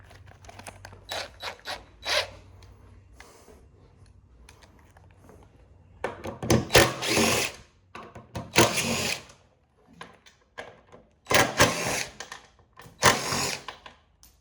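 A power drill backs bolts out of a t-shirt printer that is being scrapped, sounding in short, loud bursts of whirring and ratcheting separated by brief pauses, with a low hum and small clicks in the gaps.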